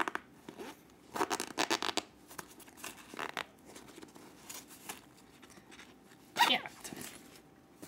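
A zipper on a picnic carrying case pouch is pulled in several short bursts, close up, with a sharper rasp near the end.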